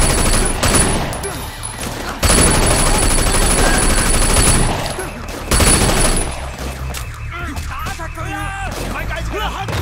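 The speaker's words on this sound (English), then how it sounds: "They're literally just shooting him." Heavy automatic gunfire from a street shootout in Sleeping Dogs, loud bursts in several waves with short pauses between, backed by engine noise and shouting voices.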